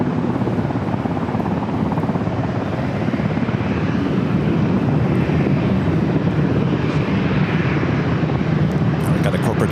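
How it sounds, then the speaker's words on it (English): A jet airliner arriving at San Diego airport, a loud, continuous broadband engine roar that holds steady throughout, close and dominant with wind buffeting on the microphone. "Jet up next for arrival on runway 27."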